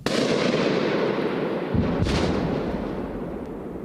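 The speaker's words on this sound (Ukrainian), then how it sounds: "але канонада не припиняється" Low, rumbling artillery booms roll in from far away, echoing among trees, a continuous distant bombardment with a sharper crack near the middle.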